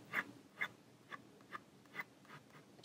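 Ballpoint pen drawing short grass-texture lines on paper, six soft, evenly spaced scratchy strokes about half a second apart, close and quiet.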